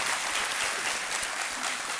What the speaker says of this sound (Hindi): तालियों के साथ इनका स्वागत करते हैं हम।